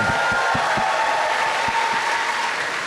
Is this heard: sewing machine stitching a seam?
no